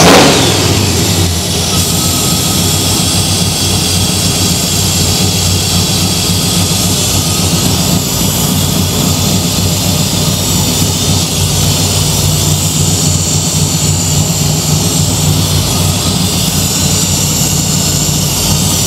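Chevy K10 truck engine idling steadily after a Holley Terminator X Stealth fuel injection install, a loud, continuous droning rumble with a brief rise at the very start, then settling into an even, unbroken idle with no talk.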